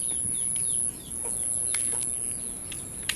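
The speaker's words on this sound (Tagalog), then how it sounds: "Meron ding manok." Chickens clucking on a rural Filipino farm with ducks and chicks nearby, several short calls scattered over steady outdoor background noise, moderately close, with no talking.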